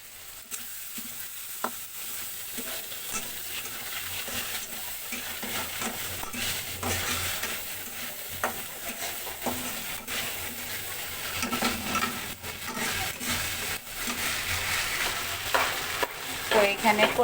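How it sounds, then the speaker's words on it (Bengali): Jackfruit seeds and potatoes are stir-fried in a pan with a sustained sizzle and repeated scraping spatula strokes at an irregular rhythm, close and loud, with no talking. "এখানে কাঁঠালের বিচি আর আলু দিয়ে ভুনতেছি"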